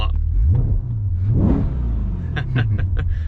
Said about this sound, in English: Let's also turn the louder exhaust on.